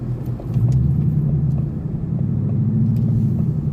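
A 2020 Ford Mustang California Special GT drives along. Its V8 engine gives a steady, deep, close rumble that swells slightly with throttle. No one talks.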